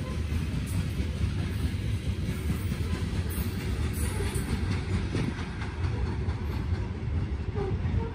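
Train cars roll past on rails at a Muncie railfanning spot, a steady, moderately distant rumble with faint rhythmic clatter over the whole stretch and no talking.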